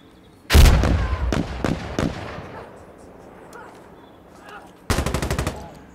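Automatic gunfire in the Insurgency: Sandstorm shooter: a loud close burst of rapid shots, then a few more single cracks fading into a noisy tail, and another sharp rapid burst near the end.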